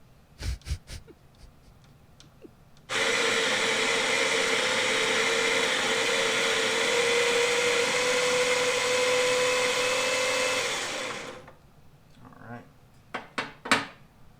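An electric coffee grinder runs at a coffee-brewing session: a loud, steady motor whir lasts about eight seconds, then winds down, with brief clatter and voices just before and after.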